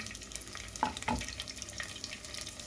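Onion sautéing in a pan for a Filipino chicken dish, a faint steady sizzle with a couple of brief scraping stirs near the middle, quiet and close with no talking.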